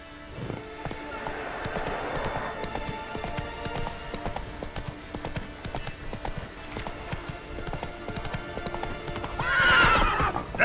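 Roach the horse gallops in The Witcher 3 with a steady run of hoof clip-clops throughout, and a whinny breaks out near the end amid game music.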